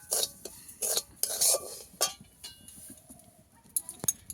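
Semolina dry-roasting in a pan for a Bengali sweet, with a spoon scraping and stirring in short irregular strokes, light clinks against the metal, close and alone.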